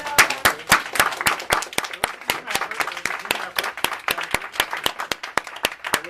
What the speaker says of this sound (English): So we should give him some applause.